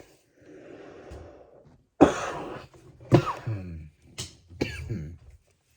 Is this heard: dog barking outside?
no